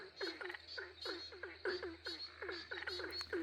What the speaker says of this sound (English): a beautiful green tree frog calling